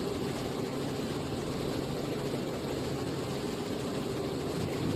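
A Robinson R44 helicopter flies on a student's first solo at Elstree, its engine and rotor a loud, steady unbroken drone throughout.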